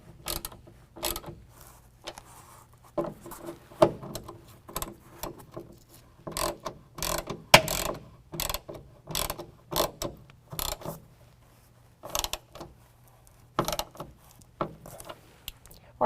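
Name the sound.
ratchet tightening tailgate striker bolts on Chevy Silverado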